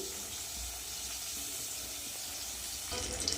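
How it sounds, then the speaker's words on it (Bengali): Pieces of rohu fish, belly and back cuts, sizzle in hot oil in a pan, giving a steady close frying hiss with a slight rise near the end. "চলো মাছটা ভেজে নিই"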